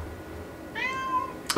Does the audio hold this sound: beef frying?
no